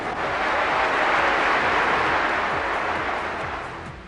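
Sustained, steady applause from a large conference audience at a 1998 Labour Party conference, heard from within the hall as a dense, even wash of clapping with no talk over it, tapering slightly toward the end.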